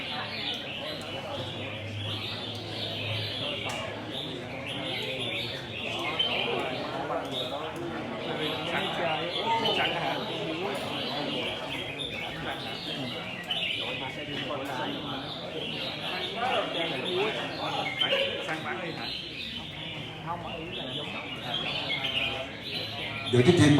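Songbirds sing continuously at a bird singing competition, their chirps and trills steady and moderately close, while someone talks over them throughout.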